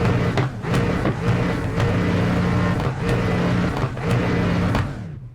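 A loud, continuous Aston Martin V8 GT3 engine roar in the iRacing game, with repeated revving surges and gear shifts, steady and close throughout, no voices.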